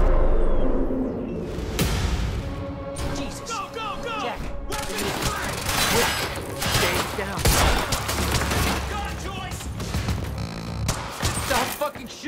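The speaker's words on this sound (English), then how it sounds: "Shooting at us!" Gunfire in the PC video game Quantum Break, dense bursts of automatic shots and impacts during a firefight, loud and continuous with whooshes and rumbling, while characters shout and talk over the shooting.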